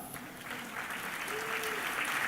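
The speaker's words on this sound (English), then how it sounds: "A round of applause for her." Steady, soft applause from a conference audience at the closing session of an international AIDS conference in Rio de Janeiro, a continuous wash of clapping held at an even level throughout.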